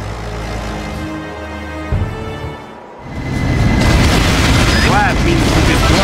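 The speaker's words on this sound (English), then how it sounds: "Blow the Gorgasburg Mausoleum to smithereens!" A heavy explosion levels a mausoleum in the video game Battalion Wars 2, with a deep boom swelling into a loud, sustained rumbling roar and crackle after a brief lull in the game's background sound.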